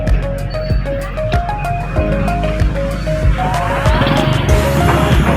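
Night street traffic on a rainy evening with shoppers about: cars rumble and hiss past while horns and tones sound repeatedly, forming a busy, loud, continuous mix that swells near the end.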